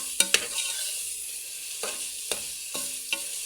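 Onions, tomatoes, green chillies and curry leaves fry in a pan for tomato rice, a soft steady sizzle punctuated by several sharp spoon scrapes and taps as it is stirred, close by.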